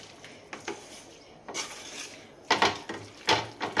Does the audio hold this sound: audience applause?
no